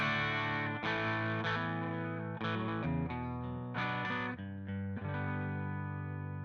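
Overdriven electric guitar through stock amp plugins rings out in thick, sustained chords with a gritty, saturated tone and a few chord changes.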